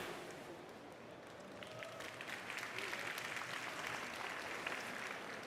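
Audience applause at a startup conference, given to investors introduced on a founder stage: steady dense clapping from a large crowd in a hall, building slightly louder partway through and sustained throughout.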